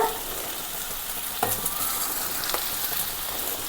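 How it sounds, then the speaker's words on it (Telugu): Okra and prawn curry sizzles steadily in oil as it is stirred, with a few scraping knocks from the spoon against the pan, close and continuous with no talk. "ఇటువంటి సమయంలో ఇలా బాగా కలిపేసుకోవాలి."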